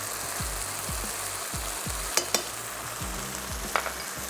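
Flour with black pepper and mixed herbs sautéing in a pan, a steady close sizzle with scraping stirs of a spoon at a slow rhythm and a few sharp clinks, no talking.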